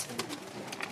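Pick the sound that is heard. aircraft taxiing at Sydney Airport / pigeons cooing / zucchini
pigeons cooing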